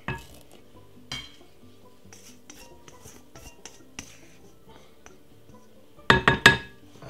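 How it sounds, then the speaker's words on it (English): Cinnamon sponge batter being stirred in a bowl: a few soft scrapes and clinks of a utensil against the bowl, then a loud cluster of quick clattering knocks near the end, with sparse quiet sounds between. "Simple, give it a stir."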